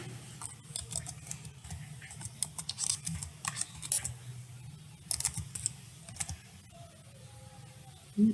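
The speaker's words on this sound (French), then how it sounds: "moi je vais écrire Université du Burundi" Keys tapped on a computer keyboard while writing a document, quiet irregular clatter of short clicks in bursts with brief pauses, over a low background hum.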